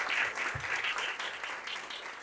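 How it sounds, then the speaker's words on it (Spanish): Applause from an audience, a fairly soft and steady wash of clapping that holds evenly throughout without pauses. "Como si fuera poco, aplausos."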